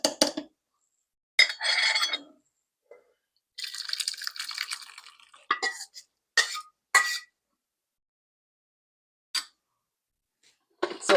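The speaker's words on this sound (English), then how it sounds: "Let me transfer all my beans." Kidney beans tipped into a baking dish, giving scattered clinks and rattling pours in short bursts with quiet gaps between, close and moderately loud.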